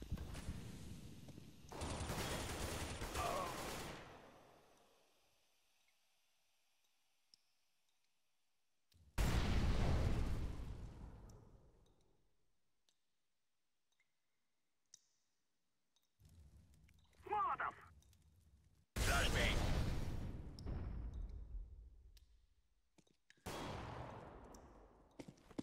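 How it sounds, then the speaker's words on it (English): In a video game, flashbang and smoke grenades go off in several loud bursts, each a sharp blast that decays into a hissing tail, separated by near-silent gaps with a brief voice between. "I'm throwing a flashbang."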